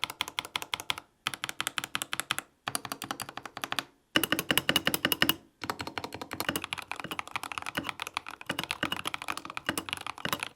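Typing on a mechanical keyboard, Elite version, in bursts of rapid, crisp clacks separated by short pauses, then a longer continuous run of keystrokes, close and clear with no talking.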